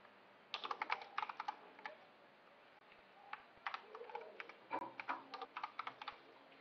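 Rapid clicking keystrokes on a computer keyboard as an email address is entered, irregular bursts of taps with short pauses, close and fairly quiet, no talking.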